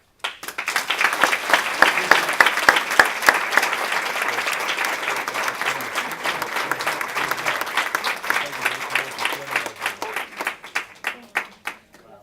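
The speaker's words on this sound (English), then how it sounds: "So let's have another round of applause." Audience applause at a graduation party, a dense, steady wash of many hands clapping that runs for about twelve seconds before thinning into scattered individual claps near the end.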